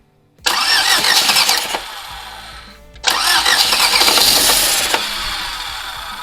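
A 1994 Skoda Favorit's carbureted engine cranks with the starter in two separate bursts after fuel is poured into the carburetor. It briefly catches and fades, then cranks loudly again and keeps turning over.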